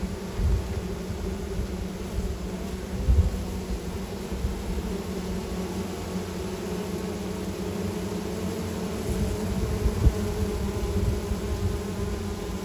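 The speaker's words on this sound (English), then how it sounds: "the bees right next to her fanning their Nasanov glands" Honeybees fanning their Nasanov glands at the entrance of a queenless hive at a city farm, a close, continuous droning hum with slight swells in intensity throughout.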